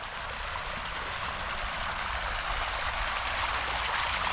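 Swimming pool water ripples and churns from the circulation system, making a steady, close, unbroken rushing wash with no voices.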